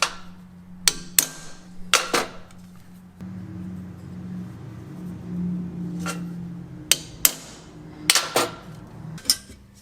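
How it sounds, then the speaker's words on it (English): A hammer strikes a center punch into aluminum for a dashboard build: sharp, close metallic taps in pairs and small clusters, spaced apart, with a low background hum in between and no talking. "So again, I'm going to center punch."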